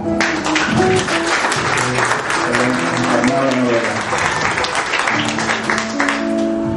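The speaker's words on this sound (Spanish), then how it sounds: "Un aplauso para él" Audience applause for a man who acted as one of the comuneros in the film Los Perros Hambrientos, at a tribute lecture honoring Ciro Alegría; steady dense clapping fills the whole stretch while a voice carries on over it.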